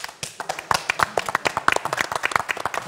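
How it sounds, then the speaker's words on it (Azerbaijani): Dense, rapid clapping from a studio audience at a Azerbaijani TV show, many hands close together forming steady applause with no talk. "Kurban Səidin alqışıdır."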